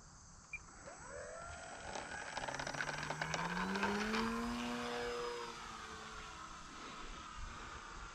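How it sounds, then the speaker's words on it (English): A small Field Boss model airplane's propeller engine drones from a distance, its pitch rising and then falling as it passes by and fades away, with no talk. "It's a pretty little plane."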